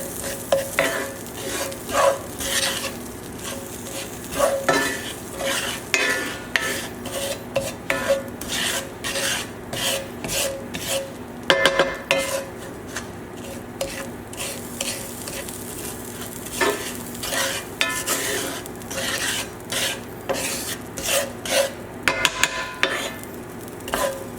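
Quinoa is stirred and toasted in butter in a pan, with repeated scraping, rasping strokes of a utensil over a light sizzle, in a steady stop-start rhythm close by.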